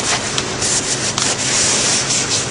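A Corvette door's sanded surface being wiped clean, a steady, loud and continuous rubbing and scrubbing sound up close, with no talking.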